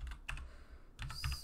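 Keys clatter on a computer keyboard as a password is typed, two short bursts of quick, close clicks separated by a brief pause, with no talking.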